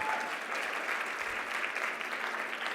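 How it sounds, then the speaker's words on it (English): A hall audience at opening ceremonies claps for the volunteer board of directors, giving full, sustained applause at an even level from start to finish. "let's give another round of applause for the board of directors"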